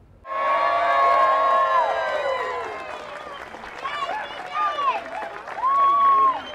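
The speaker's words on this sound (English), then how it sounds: "This little 4-year-old was welcomed with cheers and applause right from the start." A crowd cheers and applauds loudly for a 4-year-old boy at a heart-warming send-off beside a distribution truck, with whoops and a sustained roar that slowly tapers as excited voices carry on.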